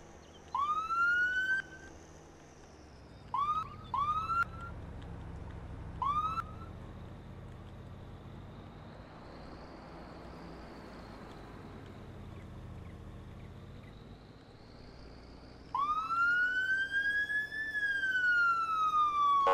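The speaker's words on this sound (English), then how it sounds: "siren." A police siren in Farming Simulator 22 whoops in short rising bursts, then falls quiet under a low vehicle rumble before returning as a longer wailing sweep, moderately loud.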